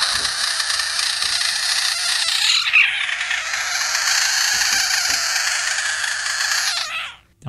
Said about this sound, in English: he touches it and listen to what it sounds like